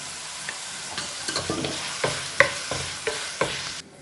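Finely chopped tomato is stirred in a frying pan for a macaroni dish, giving a steady sizzle broken by a series of close scraping strokes from the spoon, with no voices.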